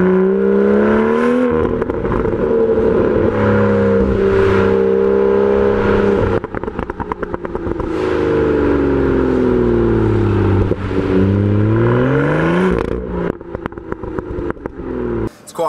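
A BMW M2 engine blipped in first gear, revving up and falling back with a steady exhaust drone that ends in a short run of crackling pops and burbles, close and loud.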